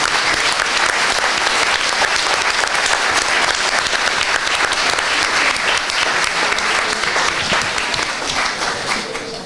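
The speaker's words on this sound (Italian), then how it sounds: "la prima cosa che vi chiedo è quella di farvi fare un applauso a voi stessi" A hall audience at a Venice-Mestre referendum gathering claps for itself, a loud continuous wash of hands that holds steady and then eases off slightly at the end, with no talk over it.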